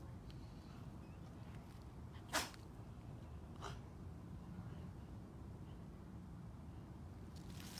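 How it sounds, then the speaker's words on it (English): A single short, sharp sneeze from an animal, followed moments later by a softer second snort, against a steady low background hiss. "Did you get some grass up your nose? Oh, that make a sneeze."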